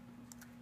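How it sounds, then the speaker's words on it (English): A few faint, quick keystrokes on a computer keyboard tap out over a steady electrical hum, three light clicks in under a second. "I type ADMIN and re-enter to confirm"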